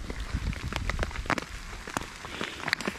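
Rain and hail patter densely on waterproof bags at a bicycle camp beside a disused canal during a thunderstorm, close and steady with sharp scattered ticks of hailstones throughout.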